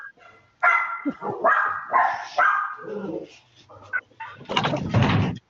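Dogs bark among other animal calls, including a turkey-like gobble, inside a video game spaceport; voice-like calls come first, then a loud, dense burst of barking near the end.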